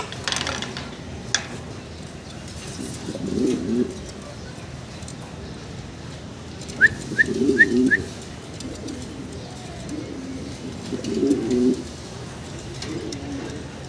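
Fancy pigeons, a large blue-bar pair, coo in low, throaty bursts about every four seconds, with a brief higher chirping and faint mechanical clicks in between.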